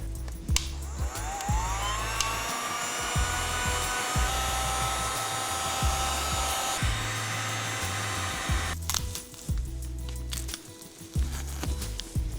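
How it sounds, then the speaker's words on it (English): Heat gun blowing on heated ATV handlebar grips glued to the handlebar, a steady loud roaring whoosh of hot air that starts abruptly, holds for about eight seconds, then cuts off, leaving faint clatter and handling noises. "Let me get the heat gun."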